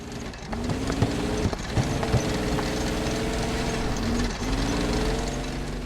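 The new main battle tank's engine in the video game Squad runs as a steady, loud diesel drone with a droning low hum throughout, a few sharper knocks and a brief dip in level near the end, with no talking.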